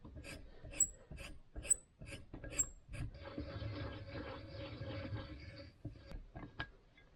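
A tap cuts new threads into a 10 by 1.0 mm spark plug hole on a motorcycle cylinder head, first in short, separate rasping turns, then in a longer continuous grinding scrape, with faint clicks and taps.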